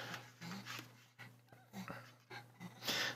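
A dog pants quietly nearby in rhythmic bursts of breathy huffs, fairly faint over a low steady background hum indoors.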